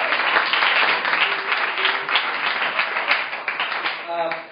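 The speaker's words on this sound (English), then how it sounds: "so give her a good clap." Loud, continuous applause from a church congregation, many hands clapping together in a dense wash, with a voice emerging near the end.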